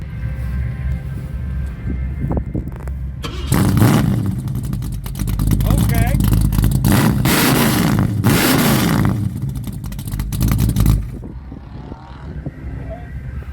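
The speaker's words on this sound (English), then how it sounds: "I'm going to start it up for him. I'm just going to let it idle." A hot rod engine with a 2.5 inch Red Hots exhaust idles with a steady, deep rumble, loud and close, while people talk nearby amid the bustle of a raceway event.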